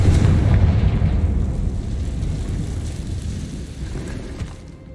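Confringo, the fire spell in the Hogwarts Legacy video game, bursts in a loud, heavy explosion, then a deep rumble slowly fades over several seconds.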